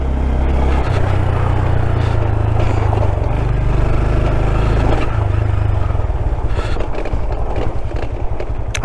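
A Honda Grom small motorcycle with stock exhaust drones steadily close by while riding, a low rumbling exhaust note holding nearly constant with wind noise and faint rattling throughout.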